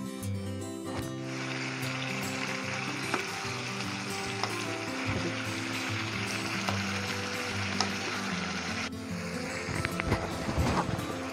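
Hyderabadi chicken curry steadily sizzling and frying in a pan, a continuous loud bubbling hiss with occasional small pops and stirring clinks, and no voices over it.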